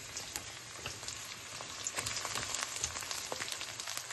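Leek, scallion and thyme sizzle in hot oil for a Jamaican saltfish and cho cho cook-up, giving a steady close crackle with scattered sharp pops and no voices.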